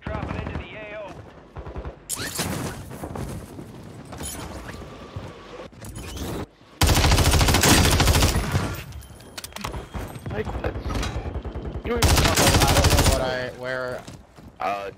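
A video game firefight with machine-gun bursts and rapid shots, some loud and close and others quieter, continues for the whole stretch while people talk over much of it.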